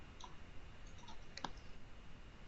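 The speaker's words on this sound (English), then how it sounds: "I might click here" A computer mouse clicks once, a quick sharp faint tick in an otherwise quiet room, with a softer click just before it.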